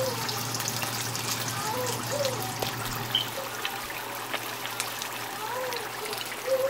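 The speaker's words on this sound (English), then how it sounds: "dip in the oil. So see, I'm gonna fry those first" Beef-filled empanadas frying in hot oil give off a steady, close sizzle and bubbling hiss that carries on without a break, with a low hum underneath.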